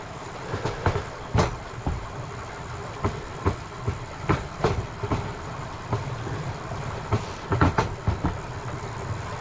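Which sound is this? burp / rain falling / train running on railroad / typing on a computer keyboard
train running on railroad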